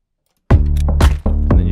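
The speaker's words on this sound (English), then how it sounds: "Anyway, all the drums together sound like" Pitched percussive drums for a type beat play together as a layered pattern of deep, booming hits, loud and dry, starting after a short silence.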